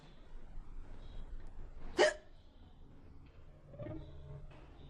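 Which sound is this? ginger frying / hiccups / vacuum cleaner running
hiccups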